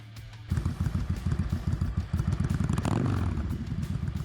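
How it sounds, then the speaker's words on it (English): A Yamaha V-Star 650 motorcycle engine starts up and runs with a deep, lumpy throb, rising briefly in a rev before settling back to a rhythmic idle. "Number 12, the Yamaha V-Star 650."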